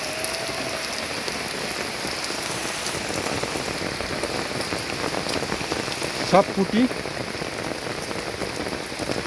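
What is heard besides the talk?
rain falling on water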